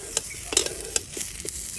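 Eggplant slices dry-frying in a pan without oil, with soft intermittent sizzles and several sharp scraping stirs of a spatula, fairly faint and close, with no voices.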